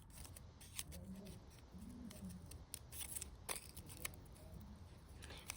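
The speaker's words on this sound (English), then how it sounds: "I like to cut on all edges of the paper" Paper being cut with scissors to make a snowflake, a run of close, crisp snips and rustles spread across the clip with short pauses between them.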